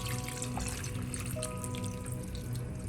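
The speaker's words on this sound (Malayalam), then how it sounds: "ചിക്കൻ വേവാൻ ആവശ്യമുള്ള വെള്ളം ഒഴിക്കാം." A steady stream of water, about one glass, pours continuously into a cooking pot of chicken curry, a soft, constant splashing rush with no talking.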